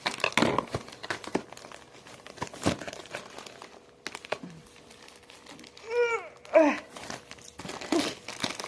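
Plastic packaging wrapped in tape is handled and opened, giving irregular crinkles, rustles and short tearing bursts up close, with a brief vocal sigh and murmur between them.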